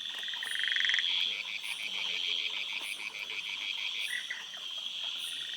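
A dense chorus of frogs from several species, including Microhyla, Clinotarsus, Indosylvirana and Euphlyctis, calls together in a Coorg plantation, with steady high trills and repeated rhythmic croaks layered continuously.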